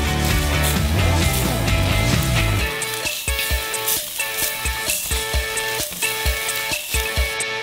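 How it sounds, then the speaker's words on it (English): Cheese sizzles in a pan over low heat while it is crushed and mixed, made with soda and salt; a steady loud hiss with scraping fills the first half, then gives way to rhythmic stirring knocks and softer sizzle. "Over the some low heat, we constantly crush and mix the cheese."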